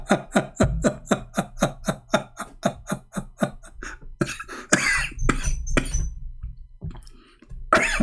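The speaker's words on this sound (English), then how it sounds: "Sorry guys, I'm coughing." A man coughs repeatedly in a rhythmic run of sharp, close bursts, followed by a few heavier coughs and throat sounds, loud and near with no speech over them.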